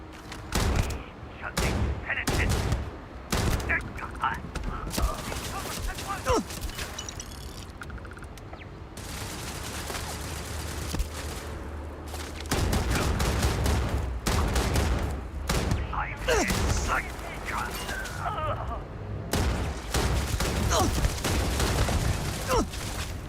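Turret gunfire in a space video game's Shatter Space expansion: rapid bursts of shots and booming impacts, loud and close, come in repeated volleys with short gaps, with a player's voice now and then.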